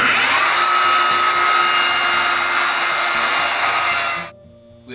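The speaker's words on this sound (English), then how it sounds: "I've put the dado jig on there, and now I'm going to run it through so we get our dado." A router guided by a dado jig cuts a dado across a board for a bookshelf: a loud, steady high-pitched whine with a grinding edge that runs for about four seconds, then cuts off abruptly as the motor is switched off and spins down.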